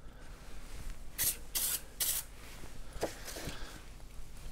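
Short hissing bursts from a refillable YOU CAN spray can, three close together, then a pause and two fainter ones. The bursts are loud and close, with quiet room tone in between.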